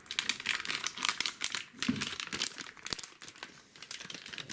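A sealed moisture barrier bag holding a hard drive is cut open, giving steady close crinkling and crackling of plastic film with quick tearing snips, continuous and fairly quiet throughout.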